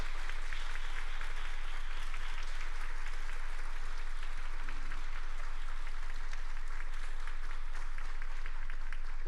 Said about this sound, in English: They will be able to hear us if you applaud for them now.